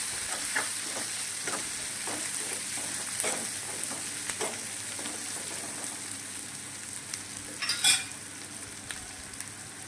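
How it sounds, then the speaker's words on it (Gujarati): Finely chopped capsicum sautés with onion in a hot pan, a continuous even sizzle punctuated by light stirring scrapes and clinks, with no voices. "અહીંયા મેં એક વાટકી કેપ્સિકમ લીધું હતું તે ઉમેરી દઈશું અને ઝીણું આવી રીતે સુધારી લીધું છે તેને પણ આપણે થોડીક વાર માટે સાતળી લઈશું"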